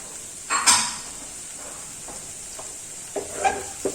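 Akuri eggs mixed in a pan: a few brief scraping and clinking strokes of a utensil over a faint, steady sizzle, close up, with no speech.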